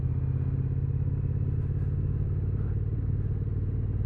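A Triumph T120 motorcycle rides through town on the edge of Norwich, its engine a steady, close, low rumble with a faint throbbing pulse, mixed with wind noise and a few light clicks.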